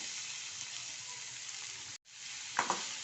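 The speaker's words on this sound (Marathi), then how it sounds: "आपला कांदा लवकर भाजतो आणि चांगला भाजतो आणि फुल गॅसवर ना" Onion frying in oil over full gas for a dry onion dish, giving a steady, quiet sizzle with a brief dropout and a couple of sharp utensil clinks near the end.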